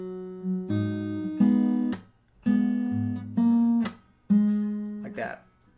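Acoustic guitar slowly picking the intro of a song, with ringing plucked notes in groups broken by sharp percussive slaps on the strings.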